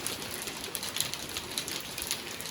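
Rain falling at a beach resort in Grenada, an even, soft hiss of drops with scattered brighter patters, steady and moderately close with no voices.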